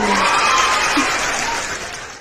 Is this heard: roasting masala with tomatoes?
no